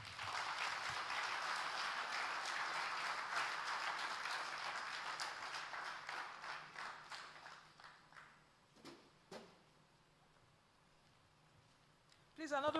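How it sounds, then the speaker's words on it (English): A conference audience applauds the finance minister, a dense clatter of many hands that stays loud for several seconds, thins into scattered claps and fades out, then a sudden burst of sound returns at the very end. "another round of applause for the Honorable Minister of Finance and Coordinating Minister of the Economy"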